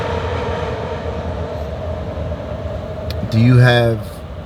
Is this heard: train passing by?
yes